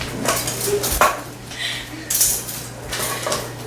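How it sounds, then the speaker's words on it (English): A whisk or spoon clinks against a bowl as sugar, cream and honey are mixed, with several sharp metallic taps and scrapes at an uneven pace and a faint voice in the background. "whisk them together with the cream and honey"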